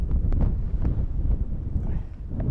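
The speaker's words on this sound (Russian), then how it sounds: "Ветер, жуткий ветер, уносит просто нахрен." Strong wind in a mountain gorge in Crimea buffets the microphone in heavy, continuous low rumbling gusts, with no voices present.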